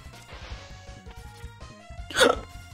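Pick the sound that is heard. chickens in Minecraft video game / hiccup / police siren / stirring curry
hiccup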